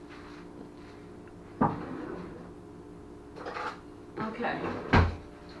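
A kitchen drawer slides open and bumps shut a few times nearby, with thuds and rattling contents, while a person speaks briefly over quiet room tone.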